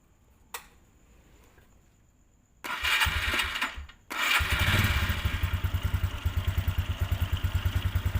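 A Suzuki Spin scooter engine coughs, then catches and settles into a fast, steady idle with rapid rhythmic putter and clatter, close and fairly loud after a quiet start.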